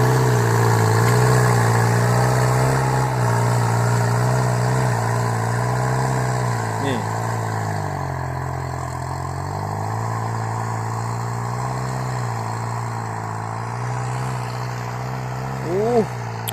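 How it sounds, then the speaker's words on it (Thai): A Ford 5000 M85 tractor engine pulling a four-disc plough through heavy ground chugs steadily at a low, heavy drone, holding a constant labored tone throughout with slight dips in pitch and a brief squeak near the end. "รถไถนี่ไถพันสามนี่ใช้งานหนักมากครับ"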